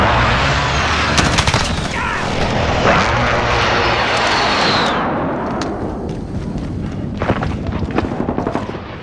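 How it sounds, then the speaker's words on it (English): Call of Duty: Modern Warfare precision airstrike: a loud, continuous roar of jet aircraft and engine noise with bursts of gunfire and heavy booms, a descending whoosh midway, easing slightly toward the end. "Precision airstrike on the way."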